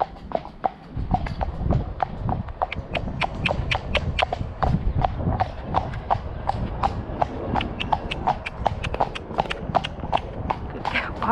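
A horse walking out on a relaxed hack, hooves striking in a steady, even clip-clop rhythm close by, with a rider's voice speaking softly over the footfalls.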